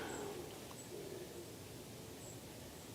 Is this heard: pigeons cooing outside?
yes